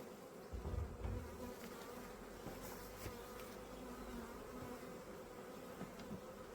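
A steady, close buzzing of many honeybees from a swarmed bee package humming together, continuous and even with no voices.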